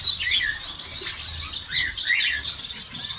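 Aviary birds, including canaries of the isabelita type, chirp and tweet continuously in a busy overlapping chorus, close and bright, with occasional wing flutters.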